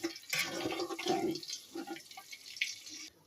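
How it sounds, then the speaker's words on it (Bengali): Chopped garlic hits hot mustard oil in a pot and erupts into a loud, foaming sizzle, then settles into a steady crackling fry that tapers off near the end, with no talking. "তেল গরম হয়ে গেছে, এখন আমি রসুন কুচানোগুলো দিয়ে দিলাম।"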